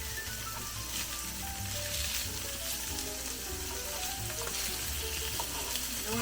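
Food sizzles steadily in a frying pan during quick home dinner cooking with thyme, a continuous crackling hiss at close range with faint scraping.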